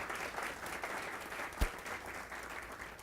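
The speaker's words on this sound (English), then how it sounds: "Let's give her a round of applause." A seated audience applauds a school-district staff leader standing to be recognized at a state-of-the-district address, steady dense clapping filling the hall throughout, with one sharper thump near the middle.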